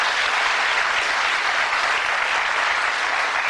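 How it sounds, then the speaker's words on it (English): Steady, dense applause from a television game-show studio audience at a darts-throwing quiz show, a continuous loud wash of clapping with no talk over it. "Give him an encouraging round of applause as he throws for charity."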